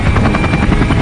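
Helicopter flying near Mount Kailash, a loud steady rotor thrum with rapid rhythmic blade chop and a continuous turbine whine, close and unbroken, with no voices.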